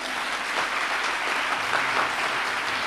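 A church congregation claps loudly and steadily in applause during a deliverance sermon, a dense continuous wash of hands with no voices standing out.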